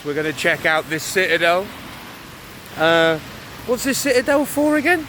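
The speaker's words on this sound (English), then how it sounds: "it's raining" Steady rain falls over the Thang Long Citadel in Hanoi, a soft continuous hiss running beneath close voices talking throughout.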